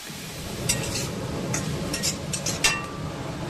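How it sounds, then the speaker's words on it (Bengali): Coconut paste stirred in a pan over a medium flame for a snake gourd fry, giving a low steady sizzle with a few light metallic clinks and scrapes from the spoon close by. "3 থেকে 4 মিনিট আমি এখন মিডিয়াম ফ্লেমে নাড়াচাড়া করব।"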